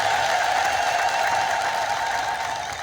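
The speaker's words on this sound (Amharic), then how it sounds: "በዕለታዊ ጭብጨባ አመስግኑ።" A church congregation claps in unison, a dense continuous patter of many hands filling the hall, holding steady and then fading slightly toward the end.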